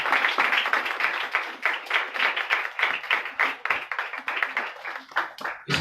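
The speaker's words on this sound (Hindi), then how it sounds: "इस जोड़े के लिए जोरदार ताली बजाएं" An audience at a church gathering claps for a couple and their child, with rapid, distinct handclaps in a lively, uneven rhythm, close and fairly loud.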